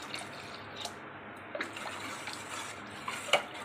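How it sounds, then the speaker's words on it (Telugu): Water poured from a small vessel into a pot of mashed dal for pappu charu: a faint, steady splashing trickle with a few small drips, heard alone. "ఇప్పుడు దీంట్లో 1 చెంబు వాటర్ వేసుకోవాలి."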